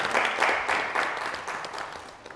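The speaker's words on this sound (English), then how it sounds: "So I would really want to give a huge round of applause to Pooja and Gordon" Wedding guests at an evening reception applaud during the speeches, a brief, moderately loud patter of clapping that gradually fades.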